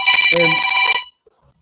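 A house phone rings in one loud, bright electronic tone burst lasting about a second, followed by near silence.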